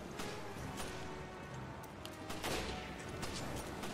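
Gunfire in the game Resident Evil: Revelations, a fast ragged volley of shots and impacts packed closely together at moderate loudness over a busy battle background.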